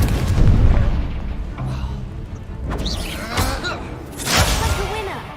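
Incendio fire spell cast in Hogwarts Legacy: a deep booming burst of flame followed by crackling whooshes and a second roaring blast, loud and close, with game effects trailing off between impacts.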